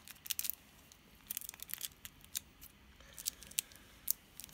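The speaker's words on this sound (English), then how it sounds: "Hang on, scissors." Scissors cut into capsule toy packaging in a quiet room, giving several short, crisp snips in uneven bursts, some paper crinkling between them, and no voices.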